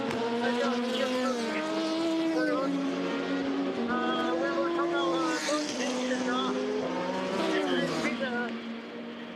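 A Le Mans prototype race car in third place passes during the 24-hour endurance race, its engine note rising and falling in long sweeping tones over continuous track noise, with a commentator talking throughout.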